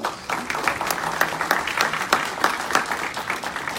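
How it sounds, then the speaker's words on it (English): Audience at a monthly community meeting gives a round of applause, a continuous crackle of many hands clapping for a few seconds with faint voices underneath. "Y'all give her a round of applause."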